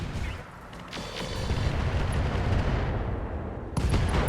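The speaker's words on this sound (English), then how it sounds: "we can fire the ER medium lasers" ER medium lasers fire at a mech in RogueTech, the BattleTech mod, producing a dense, crackling salvo of booming impacts that swells and holds, then ends with a sharp final hit.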